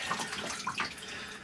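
Water poured onto a Havit gaming keyboard in a spill test, a short splashing trickle over the keys lasting about a second, close and fairly soft, with no talking.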